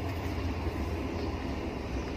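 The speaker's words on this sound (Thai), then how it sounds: "เสียงรถไฟมา" A train rumbles past nearby in a rural Thai home setting, a steady, loud low roar with rattling wagon noise that holds evenly for a couple of seconds, with no talking.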